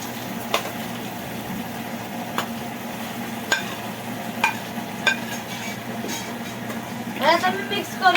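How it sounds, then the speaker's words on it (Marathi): Boiled potatoes are stirred in a pan for batata vada, a spoon clacking sharply against the metal every second or so over a soft sizzle, with a brief scraping flurry near the end. "आता मी मिक्स करून घेते."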